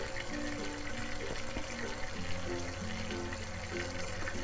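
Topka JY-03 surface skimmer churning and aerating aquarium water, a steady close bubbling and splashing flow with a faint low hum underneath, continuous throughout.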